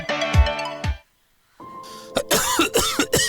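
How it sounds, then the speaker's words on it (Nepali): A smoker coughs twice in quick, heavy bursts near the start, followed by a pause and then a busier stretch of other sounds. "खोक्न फेरि सुरु भयो है।"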